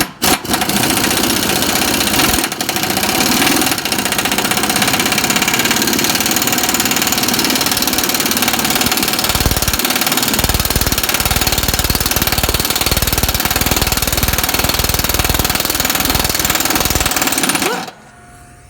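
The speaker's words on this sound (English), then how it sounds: "I'm gonna use an air gun. Try to take this off." An air impact gun works the lock nut off a Craftsman lawn tractor blade, rattling loudly and continuously in one long burst for about seventeen seconds before it cuts off sharply.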